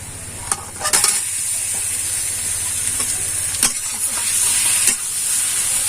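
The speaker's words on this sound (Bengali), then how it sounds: "পেঁয়াজটা ভাজা ভাজা হয়ে গেছে, এবার আমি ম্যারিনেট করা মাংসটা দিয়ে দেবো।" Marinated chicken fries loudly with browned onions in a pan with a constant sizzle, broken by several sharp scraping stirs of a spatula close by.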